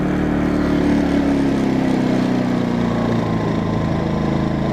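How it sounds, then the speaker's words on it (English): An Atima inverter generator runs steadily after starting on the first pull, giving a loud, continuous engine drone with a slight pitch drift as it settles, heard up close with no talking. "It started first pull. Wow! That thing is quiet."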